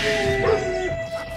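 Dogs in a Hindi horror story, possessed by spirits, give a short close whimpering, yipping howl with a sustained whining tone over a dense, steady background.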